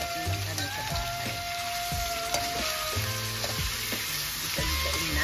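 Thigh-part chicken fries in a pan, giving a loud, dense crackle and sizzle with sharp popping spatters and scraping knocks from stirring, heard with no talk.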